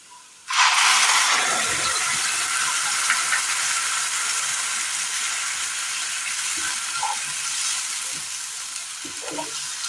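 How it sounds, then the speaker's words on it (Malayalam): Curry paste hits a pan of sautéed onions with a sudden loud sizzle that keeps frying steadily, with a few faint stirring knocks underneath. "ഇതുപോലെ വഴന്ന് വരുന്ന സമയം ഇതിലേക്ക് നമുക്ക് കറിയുടെ അരപ്പ് ചേർത്ത് കൊടുക്കാം"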